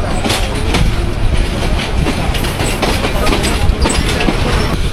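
The Tista Express rolls out from Joydebpur junction in Bangladesh, a loud, constant rumble with rhythmic clattering of wheels over rail joints heard from inside the moving carriage.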